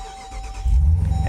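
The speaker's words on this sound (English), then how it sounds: "just listen to that V8." A 2025 Dodge Durango SRT Hellcat's V8 cranks and fires, a brief starter whir giving way to a deep, loud rumble close by, with no talk.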